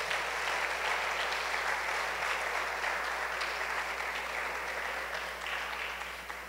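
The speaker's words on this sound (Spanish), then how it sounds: "Dale tu mejor aplauso a Él" A church congregation in Honduras applauds during a worship service, a moderately quiet, continuous spread of clapping from many people that carries on for over six seconds and eases slightly toward the end.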